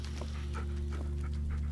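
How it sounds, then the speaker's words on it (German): A dog pants in rapid, rhythmic breaths inside the Blair Witch video game, close and steady over a constant low ambient hum, with no talking. "Ist nur der Hund, ist nur der Hund."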